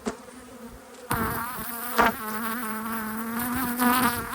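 Honey bees buzzing around an opened hive colony during an inspection, a dense, loud, close hum with wavering pitch that swells and continues throughout.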